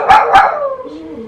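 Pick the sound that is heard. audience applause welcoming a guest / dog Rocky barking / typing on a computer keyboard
dog Rocky barking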